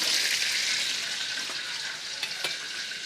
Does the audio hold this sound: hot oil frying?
yes